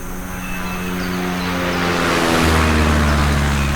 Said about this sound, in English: Nice Doppler effect that you would hear if you were watching an airplane go by from a fixed point of view on the ground